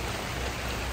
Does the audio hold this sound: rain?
yes